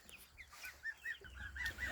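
Chickens cluck softly up close in a henhouse in the evening, a quick, irregular run of short calls over quiet surroundings.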